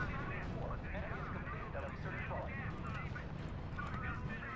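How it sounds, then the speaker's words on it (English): Heavy nuclear artillery fire in the R.U.S.E. strategy game rumbles continuously as a dense, booming low roar, with voices talking over it throughout. "Is that artillery? That's nuclear!"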